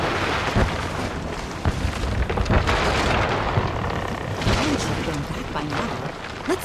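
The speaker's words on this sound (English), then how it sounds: "Oh, detonate the charges." Detonated charges rip through a bone ship in Guild Wars 2, a long, rumbling explosive roar with scattered bursts and cracks rising and falling over several seconds, and a voice talks over the blasts.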